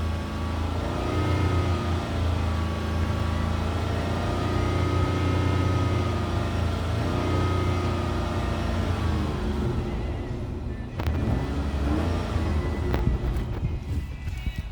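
A 2007 Ford Escape XLT engine holds a steady rev around 3,500 RPM, a loud, close, sustained drone that eases slightly near the end as some clattering noises intrude.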